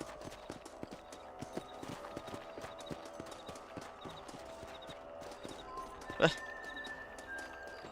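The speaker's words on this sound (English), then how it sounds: "Cavalo" Horse hooves clip-clop at a steady walking rhythm in the Red Dead Redemption video game, quiet and close, with a faint ambient bed and one brief louder thump near the end.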